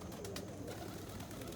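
A returned dilute brown khaki pigeon hen cooing softly, a faint low coo heard alone against quiet background, fairly close but not loud.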